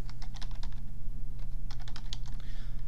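Computer keyboard typing SQL code in Oracle Apex, quick clusters of close key taps over a steady low hum, with a brief pause in the middle and no speech.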